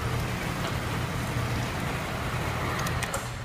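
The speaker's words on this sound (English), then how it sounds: "It is pelting rain out there" Heavy rain pelts down outside a motorcycle shop, a dense, steady roar of downpour on surfaces with a low rumble beneath, loud and unbroken, with no voices.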